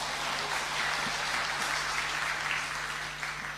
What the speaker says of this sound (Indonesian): Tepuk tangan aja